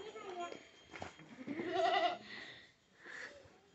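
Goats being fed fodder in a village give a few short bleats close by, with a longer cry in the middle and another near the end, over quiet background.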